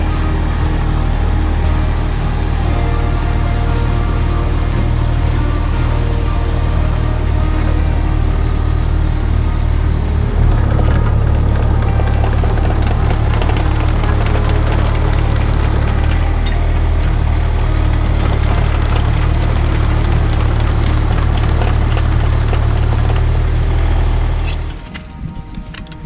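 A mini excavator runs back and forth on its tracks, its diesel engine droning steadily with a strong low hum and clanking track noise throughout, cutting off near the end.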